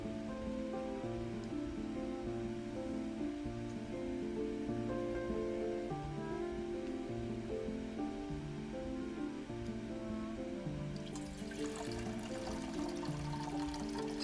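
Hot water pours steadily into a cup over roasted hojicha tea leaves, a continuous splashing trickle under a constant musical background, with a brighter bubbling change toward the end.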